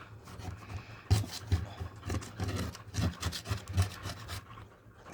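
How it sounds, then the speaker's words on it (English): Old glue gunk scraped off a Cricut cutting mat, a quiet, irregular rasping of short scrapes close by, over a low steady hum. "it's just a matter of getting all the gunk and scraping it"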